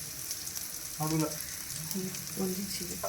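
Sweet potato tikki patties fry in a hot pan, a dense close sizzling hiss that swells as each patty goes in, with faint voices in the background.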